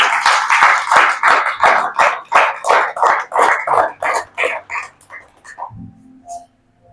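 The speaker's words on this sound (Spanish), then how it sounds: "Denle un aplauso al Señor" A church congregation claps in a brisk, even rhythm, loud at first, then thinning and fading out before the end.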